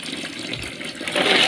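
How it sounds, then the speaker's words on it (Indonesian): Wild forest snacks (boh beurangkah) are rinsed in water, giving a short burst of close splashing and sloshing that swells toward the end. "Kita cuci dulu,"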